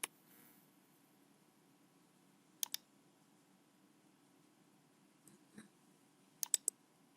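A few sharp mouse clicks and key presses on a computer, sparse and isolated against a quiet background, some in quick pairs.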